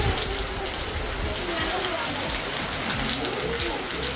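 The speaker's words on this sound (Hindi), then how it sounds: "बारिश तो इतनी भयंकर हो रही कि इसकी कोई सीमा ही नहीं भाई।" Heavy monsoon rain pours steadily on a Pahadi village house, a dense continuous wash of hiss and patter close by, loud and unbroken, with water coming through the roof.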